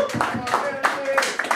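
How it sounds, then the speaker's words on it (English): Scattered clapping from the crowd at an awards ceremony, sparse uneven bursts of a few hands over a music tone, with voices mixed in. "I'm wanting to give a big round of applause to Mama Elise Kelly from Brooklyn, New York."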